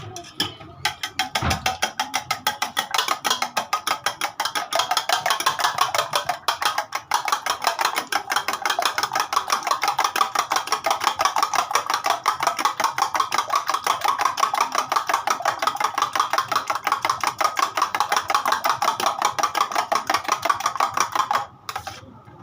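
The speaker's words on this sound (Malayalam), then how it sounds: "നമ്മൾ മുട്ട നന്നായി ഇളക്കി സെറ്റാക്കാൻ പോവുകയാണ്" Eggs are whisked briskly in a bowl for a children's bread snack, with a fast, even, rapid clatter of utensil against the bowl running almost nonstop, loud and close.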